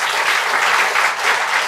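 Audience applauding students at a debate grand finale, a steady dense wash of clapping that stays loud and even throughout with no voices over it.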